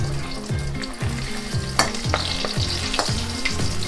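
Freshwater pomfret coated in masala and rava frying in oil, a steady loud sizzle with rhythmic scraping and spatula turns every half second or so, close up, with no voices.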